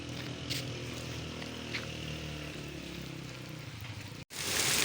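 Heavy rain pours down in the hills of Murree, a steady dense hiss of drops on surfaces with a brief dropout and a louder burst near the end.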